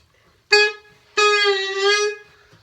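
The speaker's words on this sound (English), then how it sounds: "This part of the saxophone, when put together," A saxophone mouthpiece and neck played alone give a reedy, honking tone twice: a short blast, then a longer sustained note with a slight waver, close and fairly loud.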